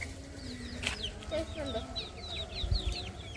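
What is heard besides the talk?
country chicken clucking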